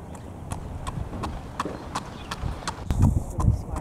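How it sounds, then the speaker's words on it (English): A horse jogging at a farm, its hooves clip-clopping in a steady, fairly close rhythm of sharp knocks over low rumbling background noise. "very, very lovable horse."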